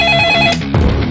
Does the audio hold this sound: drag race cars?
no